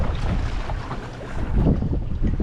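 Strong wind buffets a seaside fishing pier during float fishing, with heavy low rumbling gusts pressing on the microphone and a faint wash of sea behind, loud and close without any talk.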